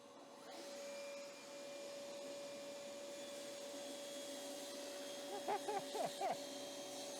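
A cordless Bosch GTS 18V table saw cuts hardwood with a steady, loud motor whine and a high tonal hum that holds throughout. A few short voice sounds come near the end.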